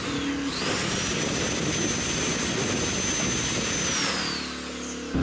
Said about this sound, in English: when this is going, the engine kicks up to make sure it's giving off and putting out enough power to power this thing